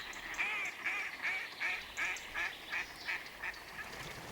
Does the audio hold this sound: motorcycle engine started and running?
no